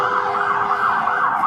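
An ambulance siren wails steadily, its pitch rising and falling in a continuous cycle, loud and fairly close with no voices.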